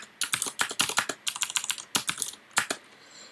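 Rapid bursts of loud, clicky keystrokes from a mechanical keyboard used with a laptop while playing Dungeon Crawl Stone Soup, close up and uneven in rhythm, with brief pauses between flurries and no voices.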